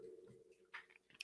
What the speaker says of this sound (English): Excuse the dog if you can hear her. She's chewing.